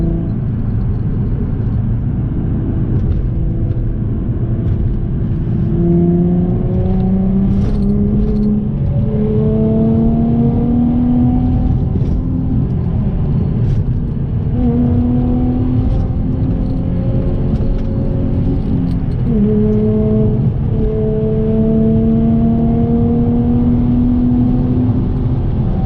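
A 1400-horsepower Camaro and a Hemi-powered car race side by side, their loud, close engines climbing in pitch through repeated hard acceleration runs and gear changes over a constant roaring rumble.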